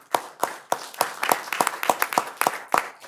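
A small council-meeting audience claps for Inglewood police officers, about ten distinct, fairly loud claps in an uneven rhythm, thin and close rather than a full crowd roar.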